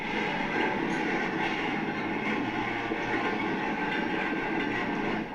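A train in a derailment incident rumbles along with a steady, loud rolling clatter of wheels and carriages that holds without a break and has no voices over it.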